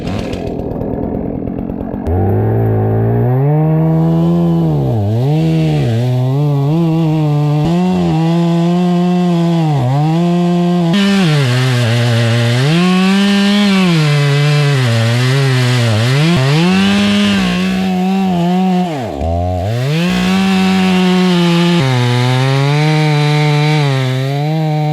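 A loud wood chipper grinds continuously through really hard wood, its motor pitch dipping and recovering as each piece feeds in, close and dominant throughout with no talk.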